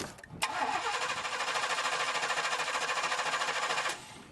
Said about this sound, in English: I'm going to go ahead and crank this bitch over, and let's see what we got